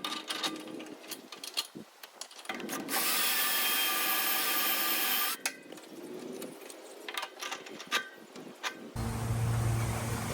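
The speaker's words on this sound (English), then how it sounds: "I'm gonna get a drill bit and drill those out" A power drill whirs in several bursts, including one long steady run, drilling out studs, with clicks and handling noises between them.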